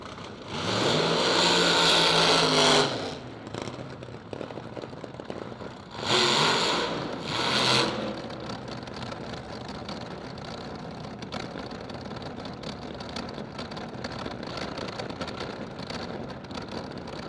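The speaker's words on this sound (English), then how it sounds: "The nitro machines come to life." Nostalgia nitro drag racing cars fire up at a drag strip with loud roaring bursts and revs, two big surges near the start, then a lower, steadier rumble of idling engines.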